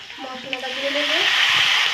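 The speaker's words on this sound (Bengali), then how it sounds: "এখন আলুগুলোকে কষিয়ে নিব ভালো করে" Potato pieces fry with turmeric, salt and spices in a pan, a close, steady sizzle that swells louder as they are stirred, with a voice faintly over the hiss.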